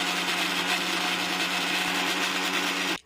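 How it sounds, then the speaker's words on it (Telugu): A kitchen mixer grinder blends chopped tomato and onion in its jar, a loud steady whirring roar held for about three seconds before cutting off abruptly. "సో మిక్సీ జార్లోకి టమోటా అండ్ ఉల్లిగడ్డలు కట్ చేసుకుని వేసుకొని మనం ఇప్పుడు మిక్సీ వేసుకోవాలన్నమాట."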